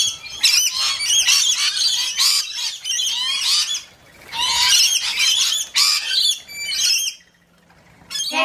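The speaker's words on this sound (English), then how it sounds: "P for parrot." A parrot squawks in harsh, shrill bursts, loud and close, repeating in two long rapid runs separated by a brief pause, then a quieter gap at the end.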